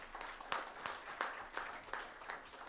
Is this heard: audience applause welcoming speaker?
yes